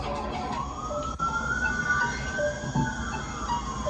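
A wailing police siren sweeps slowly up and down, sounding steady and fairly loud from outside a home, picked up by a doorbell camera among rumbling background noise.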